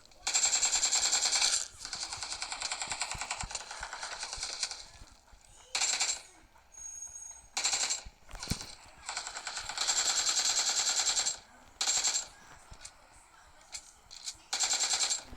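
Video game gunfire in long rapid automatic bursts, loud and bright, broken by brief pauses and single sharp shots. The shooting runs through most of the stretch alongside other game sounds, with no clear talk.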